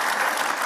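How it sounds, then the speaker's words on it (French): Audience applause at a live talk, a dense burst of clapping that is loud and close, with no voices over it. "Vous applaudissez qui, finalement?"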